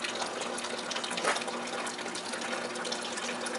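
Water rushing steadily through a MINI*MAX water softener during regeneration, a continuous hissing gush like a running tap, moderately loud and unbroken, with no voices.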